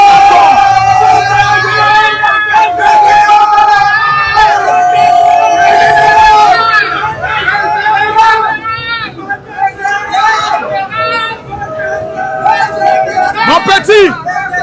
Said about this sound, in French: Vous pouvez crier,